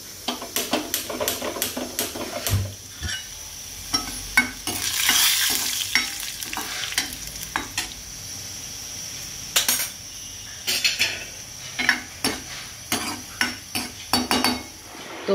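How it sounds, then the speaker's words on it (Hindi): Oil sizzles and crackles steadily as spices are tempered for dal while a spoon or utensil repeatedly clinks and scrapes against a metal pan, close and fairly loud. "और लग गया दाल पे तड़का"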